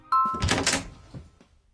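A door swings open with a thunk and a brief creak, then a short rattle as it settles, close and fairly loud, all in a few moments.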